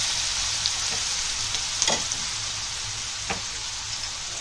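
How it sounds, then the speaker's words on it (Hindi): Onions with salt fry in a couple of spoonfuls of oil, giving a continuous close hiss of sizzling with a few faint scrapes of stirring. "प्याज के साथ नमक डालेंगे। प्याज को भुनेंगे अच्छे से।"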